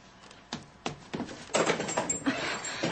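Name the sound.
creaking porch stairs as someone comes in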